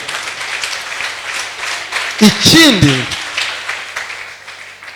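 A crowd applauds a young child's choir leader at a church worship event, a steady wash of clapping beneath a brief spoken word and a short cheering voice midway.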